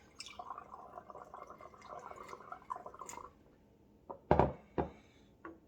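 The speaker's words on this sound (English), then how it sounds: "I'm going to go ahead and pour some in the first bottle." Homemade mosquito and tick spray poured into a bottle: a soft, steady trickle of liquid for a few seconds, then a handful of louder close knocks and splashes as the pour ends and the container is handled.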